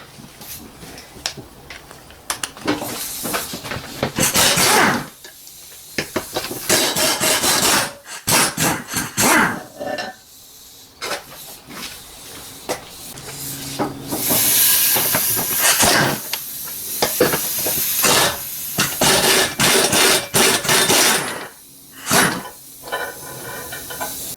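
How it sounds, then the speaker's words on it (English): An 18mm socket wrench turning bolts on an Audi gearbox, heard as repeated raspy ratcheting and grinding bursts with short pauses between them, close and fairly loud. "Now we can remove these bolts, and I'm using a 18mm for that."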